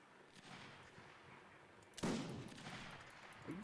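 Musket fire crackles during a game battle, starting as distant low popping, then a sharp loud volley bursts up close, followed by scattered shots and another nearby crack at the end.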